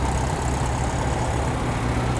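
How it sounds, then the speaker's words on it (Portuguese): A Volkswagen Beetle engine runs with a steady loud rumble, continuous and close, with no voices. "Olha o Fuca."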